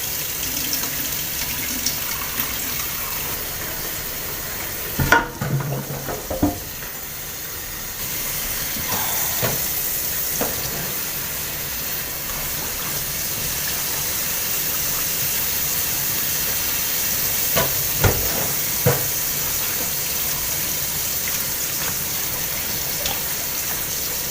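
Cauliflower being washed in water with a splash of vinegar, a steady hissing flow of running water close by with a few sharp knocks and clunks scattered throughout, no talking.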